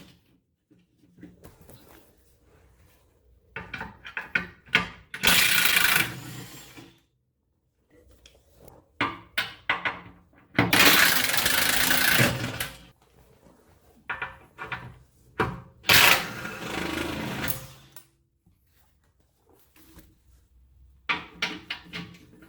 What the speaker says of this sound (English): So let's take our impact gun and take it out.